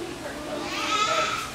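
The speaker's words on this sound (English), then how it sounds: "It's feeding time for the sheeps." Sheep bleating at feeding time in a zoo barnyard with goats nearby: one fairly loud, wavering bleat, close and alone.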